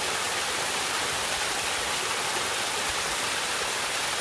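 The swollen Salto el Naranjito waterfall roars in a dense, continuous rush of white noise, loud and close, with no voices over it.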